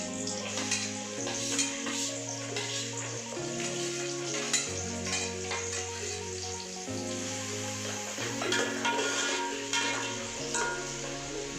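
Onion frying in a pan for a crab curry, a continuous hissing sizzle with stirring scrapes close by, fairly loud. Low musical tones run underneath.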